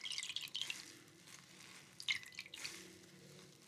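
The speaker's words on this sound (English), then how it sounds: "Okay, so now I'm going to be washing off that exfoliant" Water drips and splashes softly while facial exfoliant is rinsed off during a men's shave and facial treatment, a few faint wet trickles spread across a quiet moment.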